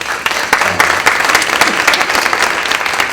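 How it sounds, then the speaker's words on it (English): Steady, close applause from an audience at an evening talk event, continuous dense clapping throughout with no speech over it. "I appreciate the applause"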